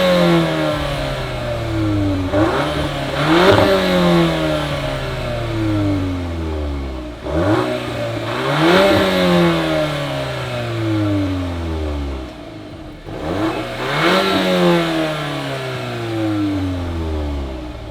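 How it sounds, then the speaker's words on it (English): A 2022 VW Golf R Mk8 accelerates hard at a drag race. The engine note rises loud and close in repeated sweeping climbs, broken by quick gear-change dips, with no talking. "driving, finally, the Golf R. This is the Mark 8."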